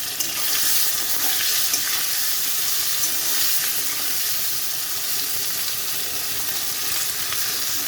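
Eggplant slices sizzle steadily in hot oil in a home kitchen while cooking a Bengali shukto, a dense continuous frying hiss that stays loud and even throughout with no talking.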